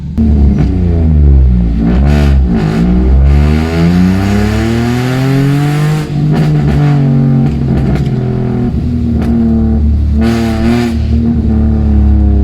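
A loud Toyota Aygo, Citroen C1 or Peugeot 107 with a Piper exhaust manifold revs repeatedly through rising and falling pitches, its exhaust roaring and droning close by, with brief crackles between revs.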